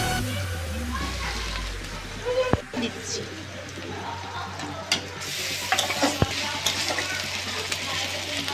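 Garlic paste hits browned onions frying in oil for a snail curry, a steady sizzle with a couple of sharp utensil knocks while pigeons coo in the background.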